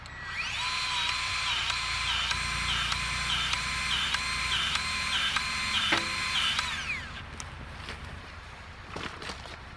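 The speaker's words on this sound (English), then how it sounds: "we're just pumping grease in it to tension that track." A grease gun pumping grease into a track tensioner on tracked equipment makes a loud, steady mechanical whine with regular pulsing strokes for about six seconds, then stops, leaving a few faint knocks.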